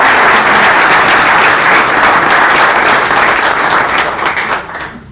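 Loud, sustained applause from an audience welcoming members of a panel at an academy book presentation and tribute, steady dense clapping that tapers slightly at the end.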